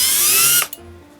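A power drill whirring at high speed as it bores into a hardened steel spoon, loud and close, then spinning down and stopping with a brief click.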